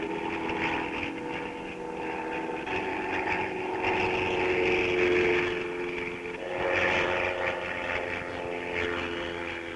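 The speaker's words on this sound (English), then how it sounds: "so we turn to the airplane" A propeller airplane flies over burned brushland in San Diego County while seeding it from the air, its steady engine drone swelling and fading gently as it passes at a moderate distance.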